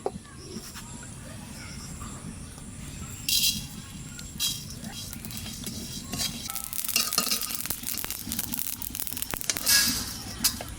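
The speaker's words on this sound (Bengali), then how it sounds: "এই শুকনো খোলায় জিরে দুনিয়া একটু বাজিয়ে নেবো" Cumin and coriander seeds dry-roast in a hot empty pan, a soft crackle with scraping stir strokes and a few louder clatters, close and fairly quiet, with light voice in the background.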